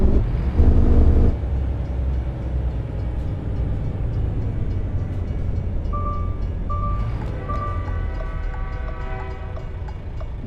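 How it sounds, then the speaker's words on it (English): In American Truck Simulator, a train rolls past with a steady rumble and rail clatter, and its horn sounds in several drawn-out blasts partway through, heard from a truck cab. "Oh, another train's coming."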